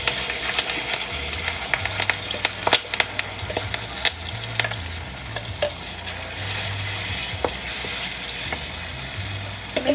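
Masala paste sizzles loudly in a pan for pepper chicken masala while a spoon stirs and scrapes it, giving repeated clinks and a steady frying hiss close up.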